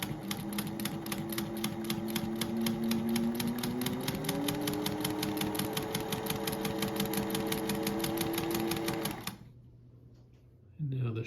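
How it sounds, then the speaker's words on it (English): A 1950s Singer 201 sewing machine stitches fabric at a long stitch length, its needle clattering in a fast, even rhythm for about nine seconds before stopping, then starting again briefly at the end. "Next we'll be sewing on these pieces of fabric. It's the longer stitch length."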